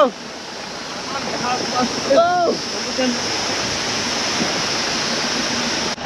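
Steady roar of a waterfall beside a mountain road on the way to Manang, Nepal, a broad continuous rush that fills the whole stretch, with brief voices and laughter breaking over it.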